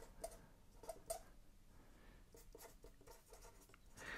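Pen or chalk writing out a physics equation, heard as faint, scattered taps and scratches with a few sharper ticks and some longer stroke sounds, quiet and close in a hushed room with no talking.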